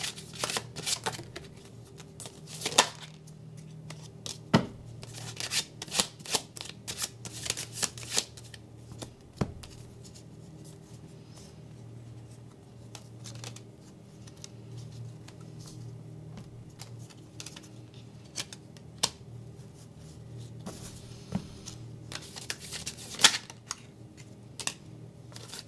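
Tarot cards shuffled by hand in a series of crisp riffling bursts and soft slaps, fairly close, with quieter card handling between the louder shuffles and no talking.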